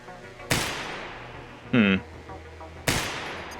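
Two sharp gunshots from Receiver 2, each a loud close crack followed by a decaying tail, spaced a couple of seconds apart, with a brief voiced sound between them.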